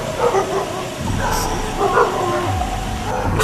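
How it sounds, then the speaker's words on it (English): Several dogs bark and yip outdoors near a house at night, a busy overlapping stream of barks heard at moderate distance with some background noise. "There's friggin' dogs over here."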